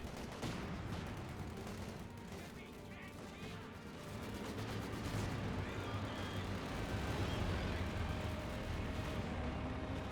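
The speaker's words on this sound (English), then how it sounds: "Grenade does come through, but does only minor damage" Grenade explosion in Company of Heroes 2 amid a dense, continuous wash of battlefield gunfire and rumbling blasts, loud and sustained throughout.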